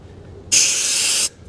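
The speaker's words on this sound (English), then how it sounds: "we pull that back out, that lets the air out" Air hissing out of a tire through an open valve stem at about 35 psi, a single loud, close burst lasting under a second that cuts off abruptly.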